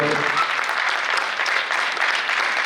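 Audience at a Bhopal dance-drama festival performance giving loud, dense applause, continuous clapping throughout with a brief voice at the start.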